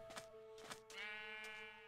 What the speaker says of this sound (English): I guess it's a black Welsh mountain sheep.